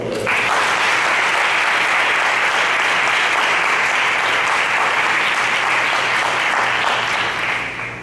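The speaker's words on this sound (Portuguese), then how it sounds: "salve de palmas" Sustained, dense audience applause at a lecture event on C. S. Lewis's theory of values, loud and close, holding steady for several seconds before tapering slightly at the end.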